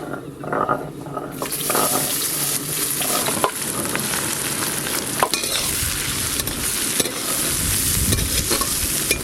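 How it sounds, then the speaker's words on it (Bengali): Chopped onions hit hot oil spiced with bay leaf and whole garam masala, bursting into a loud, steady sizzle after a brief quieter start, with stirring scrapes and clinks throughout, close up. "এবার পেঁয়াজ কুচি দিয়ে দেব"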